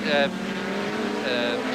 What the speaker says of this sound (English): Here's Chris Aberdeen as he thunders and squeaks into the corner.